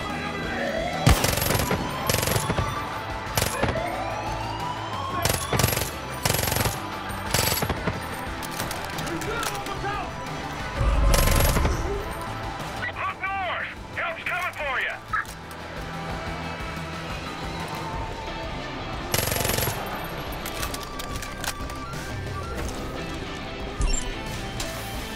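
Vector submachine gun firing in Far Cry 5 at long range, loud sharp bursts and single cracks spread through the clip, with someone talking over the shots and ambient game noise between them.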